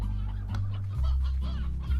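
Chickens and roosters cluck in the Slime Rancher video game, a few soft clucks over a low steady hum, faint and brief.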